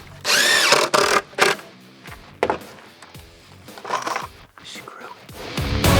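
A power drill drives screws into plywood and 2x2 lumber while building a DIY plyo box, giving loud whirring bursts that stop and start, with brief speech in between.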